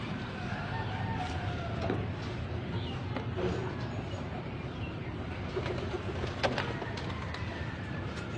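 Racing pigeons coo softly amid a busy outdoor backdrop during a derby race, with scattered chirps and a rooster crowing somewhere in the distance.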